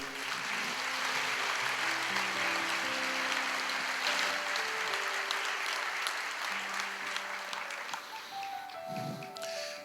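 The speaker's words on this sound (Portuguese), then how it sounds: "A igreja aplauda ao Senhor." A church congregation claps for the Lord in sustained, dense applause across the whole span, loud and steady, with soft sustained music tones underneath and a brief low voice near the end.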